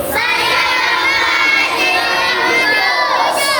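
A crowd of children shouts together in unison at a religious gathering, loud and sustained, their voices rising into a chanted phrase and holding for several seconds.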